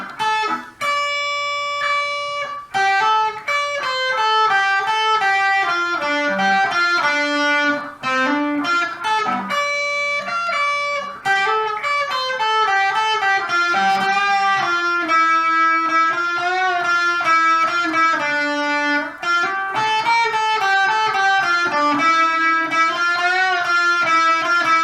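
Electric guitar plays a big solo, a dense, continuous run of sustained bends and fast melodic lines, loud and close throughout with no talking.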